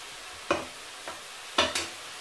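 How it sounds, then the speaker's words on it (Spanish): Vegetables salted and sautéing for Chinese noodles crackle in a hot pan, with a few brief sizzling bursts as they're stirred, separated by a quiet, steady hiss. "echamos un poquito de sal a la verdura. Y dejamos que esté sofriendo."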